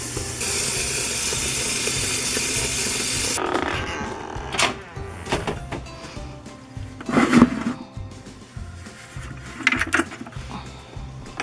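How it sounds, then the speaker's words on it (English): Tap water gushes into a pot as a bright, steady hiss for a few seconds, then gives way to scattered kitchen clatter and knocks. "Fill up the water so that I can get that boiling for the corn"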